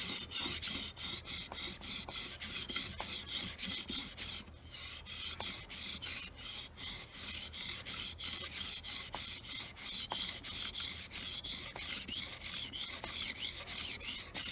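A kitchen knife blade strokes back and forth across a 600 grit whetstone in a steady, even rhythm of close rasping scrapes, each pass followed by a brief pause, with no voices.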